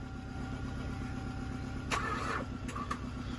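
A Subaru WRX with a frozen brake caliper idles nearby, then gets a short blip of throttle that briefly raises the engine note before it settles back to a steady idle.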